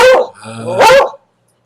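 A dog gives two loud, close barks with drawn-out howling tones, separated by a brief tonal pause, then silence.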